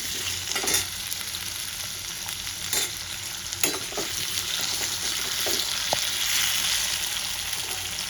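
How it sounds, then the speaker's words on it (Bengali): Long-cut potatoes frying in oil with salt and turmeric for a katla fish curry, a steady close sizzle broken by a few stirring scrapes and knocks. "আমি আলুগুলোকে নুন আর হলুদ দিয়ে এবার লাল লাল করে ভেজে নেব"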